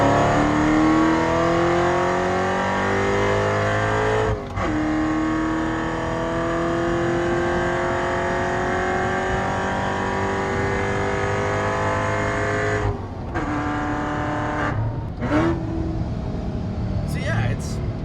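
A Ferrari 488 Spyder accelerates hard on an open road, its loud engine note climbing steadily through the gears with brief dips at the shifts, close and dominant throughout.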